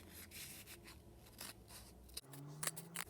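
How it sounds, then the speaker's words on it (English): Scissors snip through folded paper while a paper rhino craft is cut out, several short crisp cuts spaced across a quiet moment, close to the ear. "Now we're going to cut this one in half. Once again, fold it and cut along."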